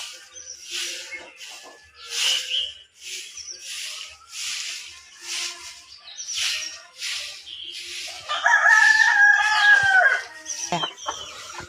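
Backyard chickens, including Kadaknath hens, cluck repeatedly nearby at a farm home in Konkan, and a rooster gives a loud, close crow toward the end.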